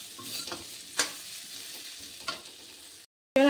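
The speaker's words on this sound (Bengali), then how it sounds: "আলুগুলি আগে থেকে আমি একটু লবণ দিয়ে ভেজে নিচ্ছি" Potatoes fry with salt in hot oil in a wok, a soft steady sizzle broken by a couple of sharp scraping stirs of a spatula, then a brief silence.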